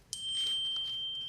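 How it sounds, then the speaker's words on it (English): A single bright electronic ding from a phone notification, a sustained high tone ringing out alone for about a second in a quiet room. "Excuse my phone, that's work."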